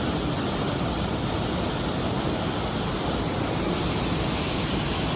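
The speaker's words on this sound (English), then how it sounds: "And you can see the waterfall there going off the gorge." Dragon and Phoenix Falls pours steadily through a gorge in Taoyuan City, a loud, continuous broadband rush of falling water with no breaks and no voices.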